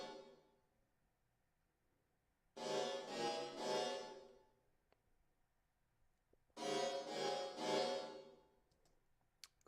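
Metallic, weird synth pad chords built from a pitched cat meow vowel sample, drenched in reverb and saturation, sounding as two sustained chord swells separated by quiet gaps.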